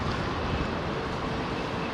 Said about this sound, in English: we're testing during a very windy